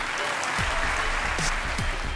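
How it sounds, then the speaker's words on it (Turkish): Steady, loud applause fills a studio theater at a Yetenek Sizsiniz Türkiye talent show, dense continuous clapping from a large audience with faint musical tones underneath. "Seni alkışlarla yerine alıyorum."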